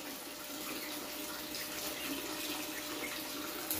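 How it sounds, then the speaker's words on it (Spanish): Steady rain falling before dawn outside a bird breeding aviary for zebra finches, a dense continuous hiss with no pauses and no voices. "Está lloviendo, mi gente."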